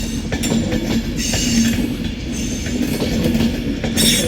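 An Avanti West Coast Class 390 Pendolino pulls away from Manchester Piccadilly on its way to London Euston, giving a steady nearby rumble with rhythmic wheel clatter and a faint tonal hum that continues throughout.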